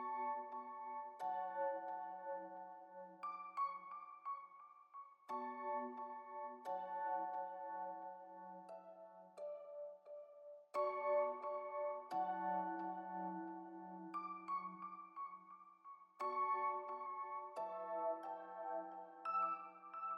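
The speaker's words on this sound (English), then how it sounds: "The last element of this was just a 90s guitar string, same chords but little variations that sound like this" A 90s-style string sample in an R&B beat plays the same chords with small variations, sustained layered chord stabs changing every couple of seconds, loud and alone with no voices.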